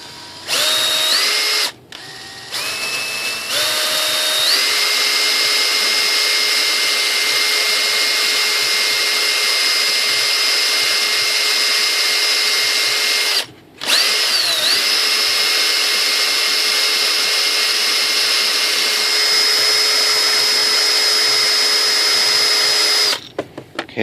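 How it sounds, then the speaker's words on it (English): A high-pitched power tool sands a model airplane part, whining loudly and continuously right up close, with two brief stops where the motor drops out and then spins back up. "And then I'm going to sand it."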